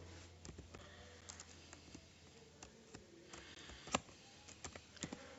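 Code is being typed on a computer keyboard, heard as quiet, uneven clusters of key clicks with an occasional louder tap, faint and close throughout.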